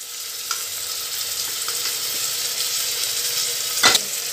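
Meat and turmeric hit hot oil with fried onion, ginger and garlic for a Hyderabadi ridge gourd and mutton curry, giving a steady, loud, close sizzle with a brief stirring clatter near the end.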